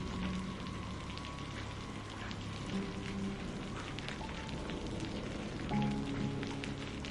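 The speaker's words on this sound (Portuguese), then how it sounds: "a chuva cai constantemente contra as janelas, o trovão ressoa baixo ao longe" Rain beats steadily against windows at night, a dense, even patter that continues unbroken throughout at moderate loudness, with no voices.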